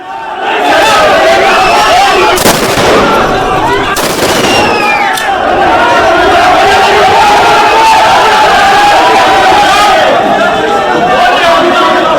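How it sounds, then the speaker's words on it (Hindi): Soldiers firing shots into the air during a protest in Nepal, a few sharp cracks standing out against loud, continuous crowd noise and shouting voices. "हवाई फायरिंग की है पीछे ढकेलने के लिए"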